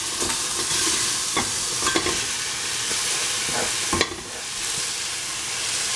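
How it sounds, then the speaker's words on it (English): Onion frying in a hot pan over a strong flame, a loud steady sizzle with scraping stirs and a few clinks on top, close up and with no talk. "Put in the onion."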